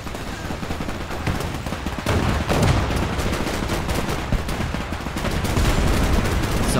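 Dense, loud gunfire fills a Men of War II battle without a break: overlapping shots and automatic fire crackle continuously throughout.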